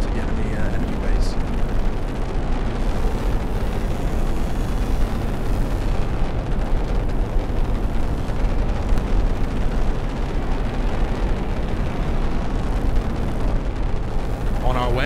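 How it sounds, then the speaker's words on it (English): Rail tank rolling along in the game Silica, a deep, steady low rumble that fills the whole stretch at an even, continuous level with no breaks, with no voice over it. "we're taking our lovely rail tank ASMR over to the enemy base"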